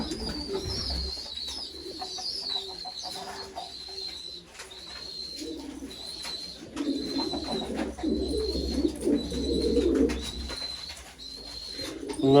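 Pigeons coo repeatedly in a steady, soft rhythm, with low murmuring calls close by and a faint higher chirp recurring throughout, near a coop of purebred chickens.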